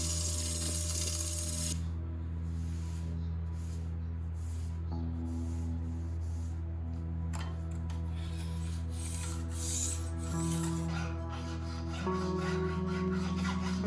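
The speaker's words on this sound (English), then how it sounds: "There was another pretty rough spot on the rear left miter slot, so I could just hit that with a file really quick" A hand file rasps over a rough spot in the cast-iron miter slot of a Rockwell Delta table saw, with repeated scraping strokes in an uneven rhythm, close up over a constant background hum.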